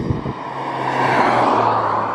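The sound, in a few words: Honda S2000 car being driven for a test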